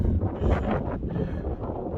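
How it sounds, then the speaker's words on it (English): Wind buffets the microphone on an exposed mountain bald along the Appalachian Trail in low, gusty rumbles, loud and close throughout the short stretch. "It is windy up here, sorry."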